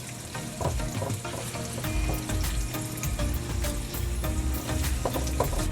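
Onions sautéing in a pan until translucent, a loud continuous close sizzle with frequent spatters and crackles and occasional stirring scrapes, no voices.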